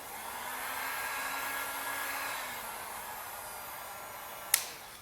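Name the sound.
heat gun warming vinyl headlight tint film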